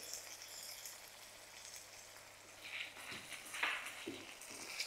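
Potatoes frying and sizzling in a spiced tempering in a pan, a steady close crackle with brief louder spits and stirring scrapes near the end, no talk.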